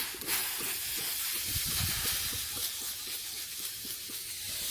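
Steady, loud hissing of steam as water is sprayed on hot metal and borax after melting gold, with faint crackling and sputtering throughout.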